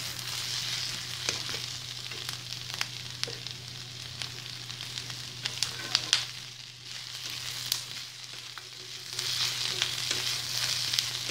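Onion, potatoes and peas frying in a pan for a mixed vegetable spinach curry, a soft continuous sizzle with scattered crackles and occasional utensil scrapes, fairly quiet, no voices.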